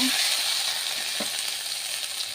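Ginger garlic paste frying in a pan gives a loud, steady, close sizzling hiss throughout, with a faint scrape of stirring partway through and no talking.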